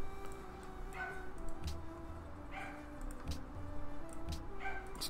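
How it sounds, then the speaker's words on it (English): Real dog barking somewhere in the background, three or four muffled, fairly distant barks spaced about a second apart over a low steady room hum. "Fucking dog is barking."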